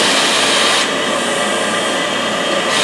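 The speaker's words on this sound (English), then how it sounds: "Vacuum cleaner on a random orbit sander makes it fan twice as fast." A random orbit sander runs with a vacuum cleaner attached, giving a loud, steady, close-up hiss and whine with a slight shift in pitch partway through.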